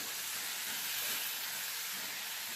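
Mixed vegetables for vegetable palav frying over a medium flame, a steady close hissing sizzle of oil that holds constant throughout with no talking.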